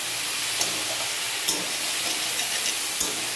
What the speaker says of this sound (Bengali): আদা বাটা দিয়ে এবার এটাকে একটু ভালো করে নেড়ে নেব